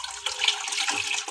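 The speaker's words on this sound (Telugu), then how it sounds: "సోయా పైన ఇట్లా చల్లనీళ్ళు పోస్తే" Cold water poured over boiled, drained soya chunks in a kitchen, a steady close splashing flow for over a second with no talk.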